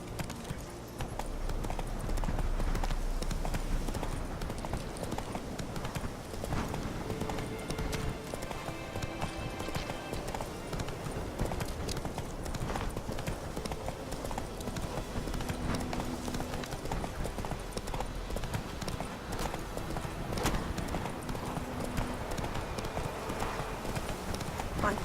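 Horse hooves galloping in The Witcher 3, a dense, steady drumming of hoofbeats that runs on without pause under a busy game soundscape with music and ambience.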